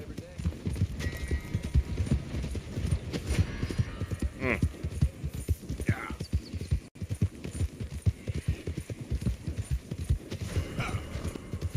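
Rhythmic clip-clop of a horse's hooves in the video game Red Dead Redemption 2, steady and close throughout, with a brief whinny, an ambient hum and a short murmur from a voice.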